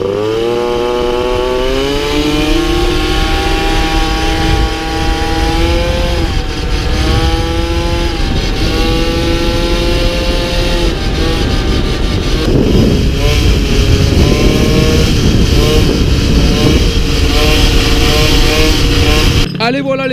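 MBK 51 Magnum XR moped, a Blue Fire replica with a 50 cc Doppler kit, revving loudly and steadily under way, its engine pitch climbing and falling through gear changes for about twenty seconds; no one speaks.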